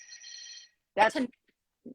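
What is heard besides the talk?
hotel room telephone ringing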